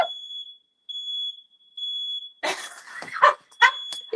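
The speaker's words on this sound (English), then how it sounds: "did I not just say the fire alarm is about to go off?" A kitchen smoke alarm set off during cooking beeps in loud, high-pitched pulses, with a dog barking and excited voices joining in close by partway through.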